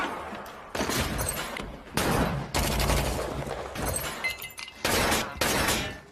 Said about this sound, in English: And in the end, a shootout ensued.